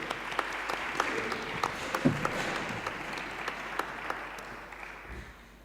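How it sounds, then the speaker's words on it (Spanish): Sustained applause from an audience at a literary reading event, a dense steady patter of many hands clapping that fills the whole stretch, fairly distant and even in level. "voy a pediros otro fuerte aplauso"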